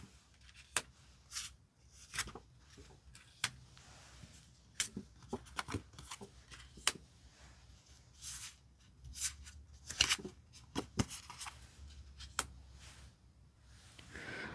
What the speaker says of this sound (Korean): 두 분의 관계의 흐름이 어떻게 될지 카드 5장을 선택해 볼게요